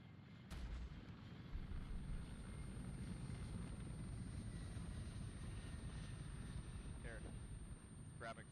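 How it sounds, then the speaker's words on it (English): Mi-24 attack helicopter flying in the military simulation game ARMA III, a steady low rotor and engine rumble that holds throughout, with faint voices and brief radio chirps above it. "we got the MI-24 lining it up on us"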